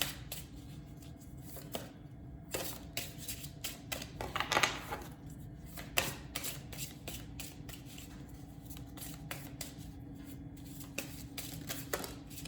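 Tarot cards riffled and shuffled by hand, a soft continuous papery flutter with small taps, fairly quiet and close over a low room hum, with no voice.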